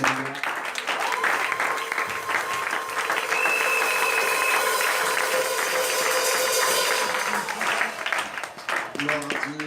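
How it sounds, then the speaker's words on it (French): A church congregation applauds and cheers to welcome the pastor on stage, a dense, steady wash of clapping lasting throughout, with voices and a sustained tone mixed in. "Sous vos acclamations, nous voulons appeler le pasteur Amour"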